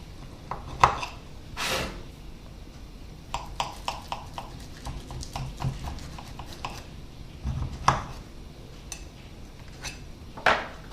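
A baked spaghetti quiche, an hour out of the oven, being cut with a knife: scattered sharp crisp cuts and taps against a dish, irregular and close, with quiet pauses and no talk.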